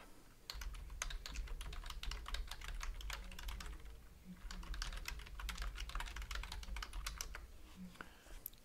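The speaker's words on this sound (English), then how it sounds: "So now I can type" Fingers tap steadily on a computer keyboard in a fast, even stream of light clicks, close and fairly quiet over a low background hum, with a brief lull midway.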